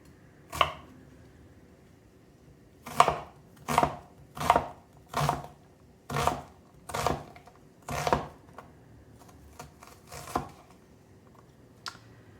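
Half an onion is chopped with a knife on a cutting board, about a dozen crisp, evenly spaced knife strikes, close and clear against quiet.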